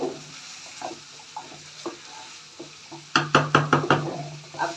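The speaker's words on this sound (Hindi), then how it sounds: "ये गाजर और मटर इसके अंदर डाल।" Boiled carrots and peas tipped into a cooking pot for a mixed vegetable curry, with scattered soft clatters and stirring, then a quick run of sharp knocks near the end.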